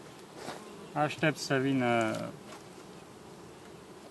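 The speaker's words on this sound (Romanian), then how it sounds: "familia de albine arată foarte bine" Honeybee colony buzzing at a hive in August, with one loud, close droning buzz that rises and falls briefly; someone speaks around it against a quiet background.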